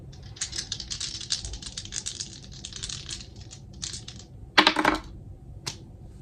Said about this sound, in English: Next, I want to get into the astrology dice. This is going to be loud.